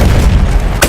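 An artillery barrage explosion in the video game Battlefield 1: a single heavy, very loud boom with a deep rumbling body, ending in a sharp burst.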